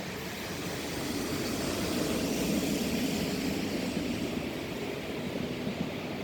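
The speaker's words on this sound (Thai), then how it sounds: "อุ้ยรถไฟมาค่ะทุกคน" A steady, broad rumbling roar of a train passing before entering a tunnel fills the whole stretch, fairly loud and continuous with no voices.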